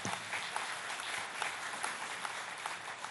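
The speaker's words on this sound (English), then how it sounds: "Can we have a round of applause for Sadhguru?" Audience applause at a talk event with yoga gurus, a dense steady wash of many hands clapping that fills the whole stretch at even volume with no voices on top.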